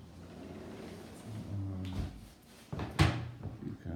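The front door of an apartment unit at 725 College Dr #8 opens: a faint rattle of the handle, then a soft thud and a louder clunk of the door moving, heard close in a quiet interior.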